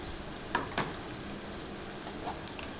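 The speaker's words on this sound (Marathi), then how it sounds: "तर असं आता मिक्स करून घेऊया" A spoon stirs turmeric into a kadhi mixture in a pot over a soft steady simmering hiss, with a couple of light scrapes and taps against the pot.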